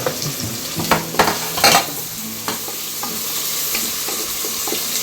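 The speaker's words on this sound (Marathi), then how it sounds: "कांदा थोडा लाल होईपर्यंत परतून घ्यायचा." Chopped onion is stirred into hot oil with curry leaves in a pan. A few sharp spatula clacks against the metal come near the start, then a sustained crackling sizzle continues underneath, close and fairly loud, with no speech.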